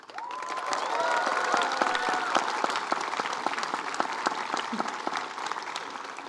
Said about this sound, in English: Let's give another big round of applause to thank the people who supported us